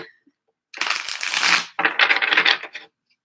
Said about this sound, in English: Let's do a nice ripple shuffle here. And one the other way for good measure so I don't bow my decks.